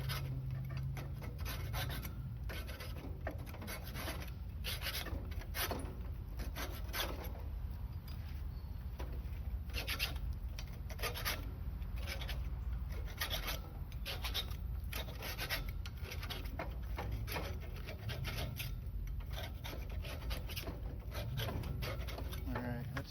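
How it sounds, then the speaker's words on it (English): A scraper working rust off Char Griller grill grates, a long run of rapid, repeated raspy scraping strokes, fairly steady and close, with voices talking intermittently underneath. "that's about as clean as we can get it with the scraper"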